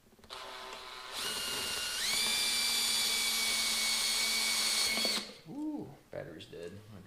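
A cordless electric drill boring a hole while building a small DIY sandblaster, whining steadily at full speed for about four seconds and then spinning down as the battery dies. Speech follows briefly afterward.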